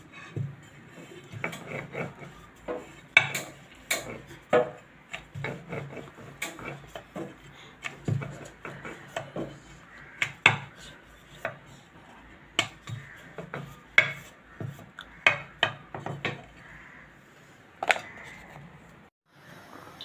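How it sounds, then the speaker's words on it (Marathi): Repeated soft wooden knocks and rubbing from a rolling pin rolling out puris on a board, an irregular series of close taps and rolls, with no talking. "आता आपण पुरी लाटून घेऊया"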